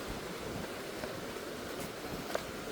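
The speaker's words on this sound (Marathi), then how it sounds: "वारा एक नंबर जोरात चालू आहे" Strong wind blowing by the sea on the South Goa coast, a faint steady roar of gusts buffeting the microphone with a low surf-like rumble underneath, no talk.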